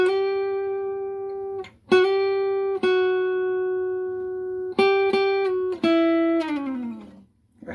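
A sustained, distorted electric guitar phrase from a song's intro: long held notes broken by sharp picked attacks, ending with a downward slide that fades out.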